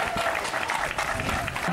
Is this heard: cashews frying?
no